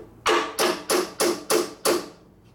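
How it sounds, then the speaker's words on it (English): Hammer blows on a part from a 1967 Harley-Davidson 74ci Shovelhead FLH motorcycle during an engine rebuild: six loud, sharp metallic strikes in a steady rhythm, close by and with no talk. "So first thing we're going to beat this thing over a little bit."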